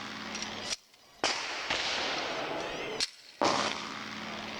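A Glock in .40 S&W fed from an aluminum 50-round drum magazine fires in a rapid string of loud, close shots that blur together, with a couple of brief pauses between bursts.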